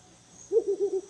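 A mottled wood owl, a large owl of India and Nepal, gives a quick run of four deep, clear hoots after a short quiet stretch, with no talk.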